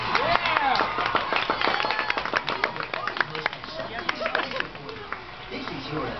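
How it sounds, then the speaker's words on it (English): Guests at a child's birthday party at a Chuck E. Cheese break into lively clapping and cheering, with dense claps at first that thin out, mixed with voices and restaurant bustle. "How about some applause here"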